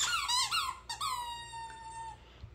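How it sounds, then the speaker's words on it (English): A Costco Tuffy plush dog toy squeaker lets out a couple of sharp, rubbery squeaks up close, followed by one long, drawn-out squeak that fades away. "Mia's definitely more excited about this, mainly I think because of the squeaking, than Lulu."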